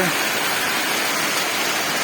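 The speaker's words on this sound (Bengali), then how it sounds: "বৃষ্টি পড়তে আছে" Heavy afternoon rain pours down in a dense, loud, continuous hiss that fills the whole scene evenly.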